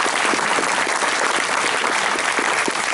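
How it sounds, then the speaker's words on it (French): Loud, dense applause from an audience at a gathering in Occitanie, sustained evenly for the whole few seconds with many hands clapping together, close and full. "on peut les applaudir très fort"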